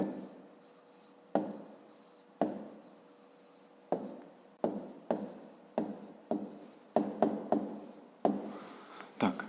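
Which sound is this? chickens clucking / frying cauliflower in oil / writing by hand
writing by hand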